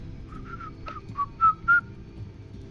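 A character in the video game Final Fantasy XIV whistles a short tune of a few clear sustained notes, rising at the end, over a low steady background hum.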